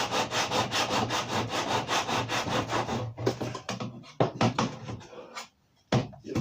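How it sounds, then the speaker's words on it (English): A small handsaw cuts through wood in a fast, steady rhythm of close rasping strokes, then slows into a few separate, uneven pulls with short pauses between them. No one speaks. "I like to use my little handsaw on it, but it doesn't want to cooperate."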